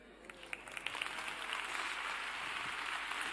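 Quiet audience applause at a Naukas 2021 science talk, starting with a few scattered claps and building into a soft, steady patter of clapping, heard at a distance.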